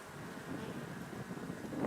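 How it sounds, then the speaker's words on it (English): Gusty wind blowing outdoors beside a beehive, a steady broadband rush with buffeting against the microphone that swells slightly toward the end, with no voices. "Whoa, some wind."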